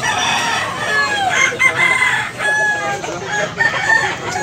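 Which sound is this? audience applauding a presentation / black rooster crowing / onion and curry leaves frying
black rooster crowing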